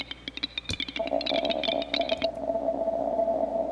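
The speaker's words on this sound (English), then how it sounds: "This is like this little particles kind of sound." Rapid, irregular crackling clicks like tiny particles scatter for a couple of seconds, then give way to a steady electronic hum that sustains to the end.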